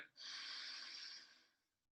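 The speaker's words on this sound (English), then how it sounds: "Breathing in and out 10 times fast. Fire breath." A breathing exercise in a wellness session: a single forceful, airy breath swells quickly, holds steady for about a second, then fades out, heard close up with no talking.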